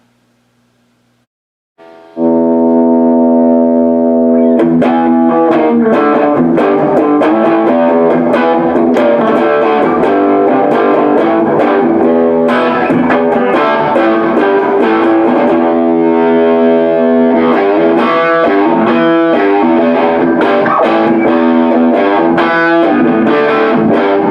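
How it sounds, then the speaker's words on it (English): An electric guitar, a Gibson SG, plays heavily distorted chords through a Marshall Governor pedal, a Hall of Fame reverb and a 1965 Fender Deluxe amp, ringing loud and sustained after a brief quiet start, with a thick, saturated tone throughout. "That's the amp with a Marshall Governor and a Hall of Fame reverb, and of course Gibson SG."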